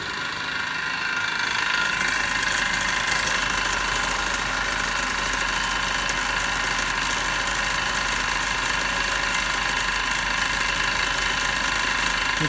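A DC motor runs steadily in an electrical machines lab during a speed control test, giving a loud, continuous whirring drone with a faint ratcheting mechanical texture and no pauses.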